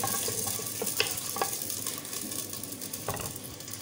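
Onions frying in oil in a pot for chicken curry, a soft continuous sizzle with a few light clinks of a utensil, close but fairly quiet, with no voices.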